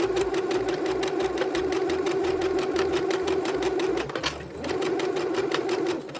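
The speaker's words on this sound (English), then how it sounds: "does anyone else find the noise of the sewing machine extremely relaxing?" A sewing machine stitches ruffles on a puff blanket, running in a fast, steady mechanical rattle that pauses briefly near the end before it resumes, loud and close.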